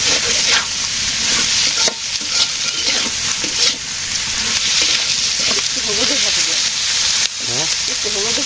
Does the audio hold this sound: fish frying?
yes